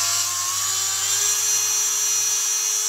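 A Biospec Tissue Tearor homogenizer motor spins at up to 35,000 RPM, giving a loud, steady, high-pitched whine with a constant hum underneath, close and unbroken.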